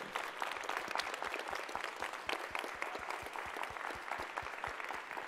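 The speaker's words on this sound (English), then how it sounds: "Let's give them a round of applause again." An audience at a school academic competition claps for the third-place finalists, a steady patter of many hands, fairly soft and distant, with no voices over it.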